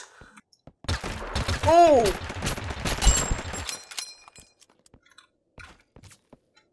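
Bursts of gunfire in the cartoonish battle-royale shooter Totally Accurate Battlegrounds, loud and close, with a brief frantic volley about a second in, then scattered faint clicks as a player shouts over it.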